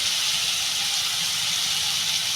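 Spices sizzle in hot oil while being fried for a Bengali tilapia curry, a steady close hiss that runs without a break.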